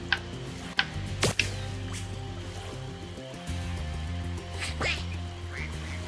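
A cartoon duck quacks in the video game Spyro Reignited Trilogy, short clear quacks over flowing game water and background music.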